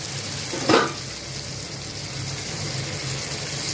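Tomato paste sautés in a pan for a millet (samai) tomato rice. A brief splashy hiss near the start settles into an even, moderately loud frying sizzle that holds steady to the end, with no one speaking.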